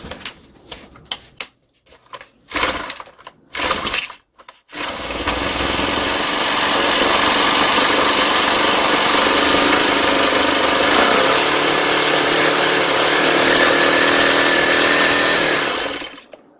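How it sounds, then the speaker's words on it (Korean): A gasoline grass trimmer engine is pulled several times in sharp, sputtering bursts, then catches and runs at a loud, steady, buzzing idle for about ten seconds before dying away. "시동이 걸렸다가 연료가 다 타버리니까 시동이 꺼졌죠."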